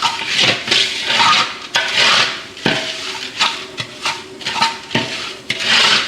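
Fruit and sugar for a Christmas plum cake are stirred in a pan with loud, close, steady scraping strokes. A few sharper knocks against the pan break the rhythm.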